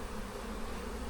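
A colony of honey bees hums at an open hive, a soft, steady drone that stays low and continuous through the brief moment, with no talking.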